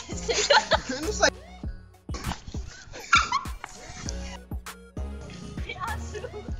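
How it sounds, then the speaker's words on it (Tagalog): A dog barks and yips several times in short bursts, mixed with people talking and chuckling nearby. "May aso."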